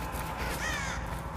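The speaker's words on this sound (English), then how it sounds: "There's a bunch of crows on a billboard" Crows cawing from a billboard in the video game Driver San Francisco, a steady raucous chorus of overlapping caws, fairly loud and continuous, with no talking.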